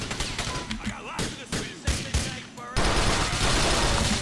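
Rapid gunfire from the game GTA: The Lost and Damned crackles in bursts and volleys, closing in a sustained loud barrage, with in-game sounds layered around the shots.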